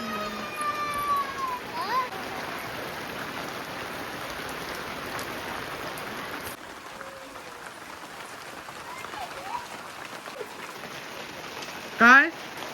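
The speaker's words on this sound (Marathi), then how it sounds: "अवकाळी पाऊस आहे हा." Unseasonal rain falls steadily on a Konkan village, a continuous broadband hiss of drops on surfaces with a brief louder burst near the end; someone talks in the background over it.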